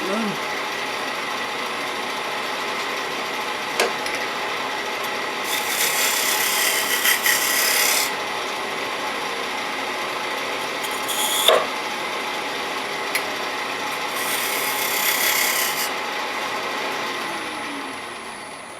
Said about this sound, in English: So now I'll start to scrape the back of this to make it into a bead.